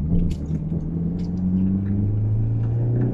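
A Citroën Xantia engine idles and hums steadily after repairs, a close, low, tonal drone with a faint revving rise toward the end and no talk.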